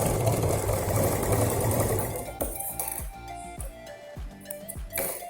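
A sewing machine stitches a ladies' handbag, running loudly for about two seconds, then stopping into a series of sharp clicks and metallic clinks as the work is handled.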